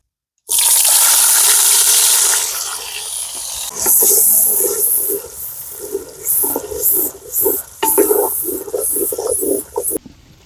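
Onion, green chilli, tomato and coriander paste sizzles in hot oil in a chicken curry pan, starting as a loud, steady frying hiss that settles into softer bubbling crackles with short bursts.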